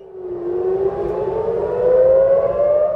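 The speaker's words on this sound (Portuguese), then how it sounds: "sirenes aéreas foram acionadas no centro do país" An air raid siren sounds over central Israel, one continuous loud wailing tone that rises slowly in pitch, with no voices over it.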